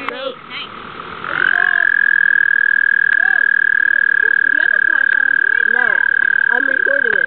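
Frogs croak nearby, one holding a long, steady trill while others add short, bubbling calls around it.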